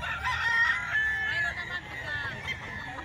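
Gilmore hatch roosters crow, with several long drawn-out calls overlapping against a murmur of people talking and background yard noise.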